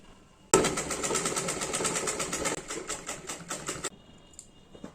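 A sewing machine stitches a kurti seam in one continuous burst of rapid, even needle clatter lasting a few seconds, close and fairly loud, then stops.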